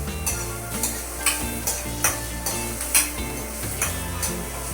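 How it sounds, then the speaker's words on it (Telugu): Onions frying in oil in a pan for bagara rice and chicken curry, a loud sizzle punctuated by regular spatula scrapes against the pan roughly once a second, under a steady low hum. "బాగా ఆనియన్స్ అయితే ఆయిల్లో ఫ్రై కావాలండి, గోధుమ రంగు వచ్చేంత వరకు ఆనియన్స్ అయితే ఫ్రై చేయాలి."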